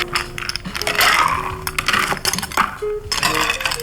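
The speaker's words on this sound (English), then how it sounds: "While Hedda's been filling that with ice" Ice cubes clinking and tumbling into a cocktail glass in several quick bursts of bright chinks and rattles, close and fairly loud, with brief pauses between scoops.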